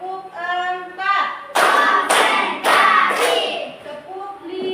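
A class of children bursts into several quick rounds of loud, unified clapping, set between a teacher calling out counts over the group.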